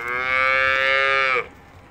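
A mother cow moos loudly and close by for her calf, which had been stolen by a Bedouin, in an open field. One long, sustained moo fills most of the moment, then it cuts off to quiet background.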